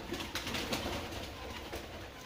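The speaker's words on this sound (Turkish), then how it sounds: "Kuşlarımız uçuyorlar bakın." Pigeons inside a coop coo softly and shuffle about, with faint wing flutters and rustling close by, a low steady murmur of birds with no talking.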